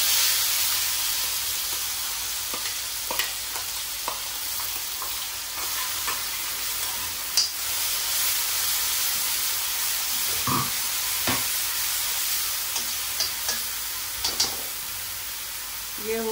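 Onion, garlic and chilli paste frying in mustard oil with cumin and asafoetida, a steady close sizzle and hiss with occasional stirring scrapes and pops throughout.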